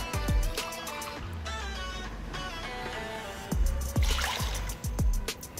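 Cold water poured into a cooking pot that may be aluminium, splashing and trickling in uneven bursts with clinks and knocks of the pot, close and fairly loud.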